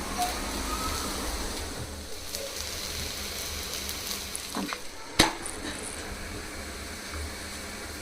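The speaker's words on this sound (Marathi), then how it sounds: "दोन्ही साइडला भाजून घ्यायचा। असा खरपूस भाजून घ्यायचा." A Maharashtrian thalipeeth flatbread roasts crisp in a pan with a steady close sizzle, a faint scrape and one sharp clack of a utensil against the pan partway through, with no voice over it.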